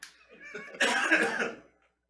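A single short, throaty cough bursts out after a brief breathy sound, then fades to quiet.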